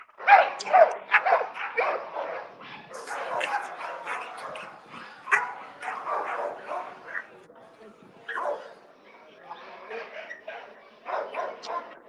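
Several dogs, four or five brought together, bark and yip in overlapping bursts with occasional whimpers, fairly close and continuous across the stretch, mixed with people talking.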